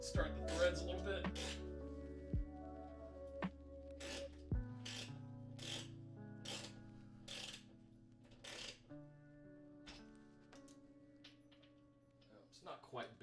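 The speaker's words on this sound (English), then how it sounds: "Push through the drywall. Make sure we get a good bite. Start the threads a little bit." An air ratchet drives a screw through drywall in a closet being prepared for server racks, giving a run of rasping bursts over steady tonal background sound.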